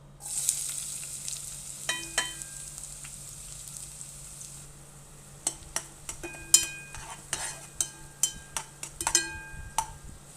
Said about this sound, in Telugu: ఒక పాత్రలో కొద్దిగా నూనె వేసి దానిలో ఉల్లిపాయ వేసి బాగా ఫ్రై చేసుకోవాలి